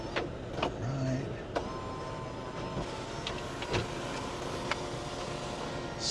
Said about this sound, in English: Sunroof works very good.